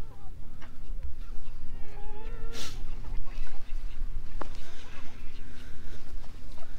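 Backyard chickens cluck and chatter around scratch feed on a farm, soft bird calls scattered through steady background noise, with a brief sharp squawk midway and someone talking in between.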